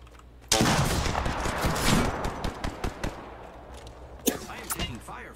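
Gunfire in a battle royale video game: a dense burst of rapid shots starts abruptly and rolls on for several seconds, with a few sharp single cracks later, all loud and close, mixed with game effects and some talk.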